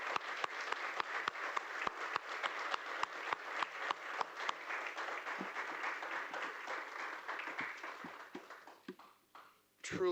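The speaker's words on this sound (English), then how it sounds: "could we please give all three of our amazing applicants a round of applause" Audience applause at a city council candidate public forum, crisp individual claps near the mic over a broad clapping wash that thins and fades toward the end.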